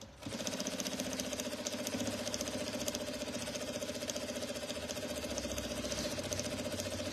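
Domestic sewing machine running a zigzag stitch, a steady rapid mechanical chatter with a fast repetitive needle rhythm, loud and continuous after a brief start, no talk over it.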